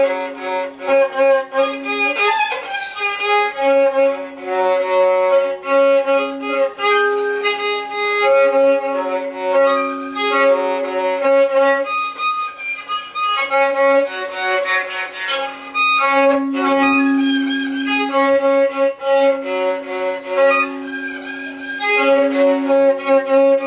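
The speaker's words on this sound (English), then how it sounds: "Now when you actually pick up your violin for the first time" Beginner's violin, freshly tuned and picked up for the first time, scratches and wavers through sustained bowed notes for over twenty seconds, loud, continuous and uneven with no talking.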